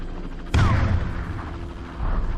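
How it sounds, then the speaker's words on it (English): A flashbang grenade goes off in the Police Quest: SWAT 2 game, a sudden loud boom with a heavy low rumble that rolls on and decays over the next two seconds. "Flashbang."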